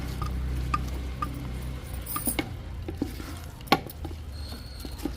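Rice flour is stirred into hot syrup for ghee ariselu, giving soft, steady scraping and sticky mixing sounds with occasional sharper clicks of the spoon against the pan.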